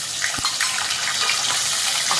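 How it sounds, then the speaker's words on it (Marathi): Mutton fat frying in hot oil in a pot for a spicy mutton rassa, a loud, close, continuous hiss and sizzle with no speech. "आता आपण ही चरबी आहे ती तेलामध्ये परतून घ्यायची"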